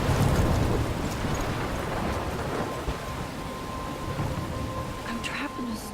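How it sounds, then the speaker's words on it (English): A stormy scene in the game Life Is Strange holds steady, dense rain with a rumbling low wash of thunder that swells early and then settles into a constant downpour. "I'm trapped in a storm?"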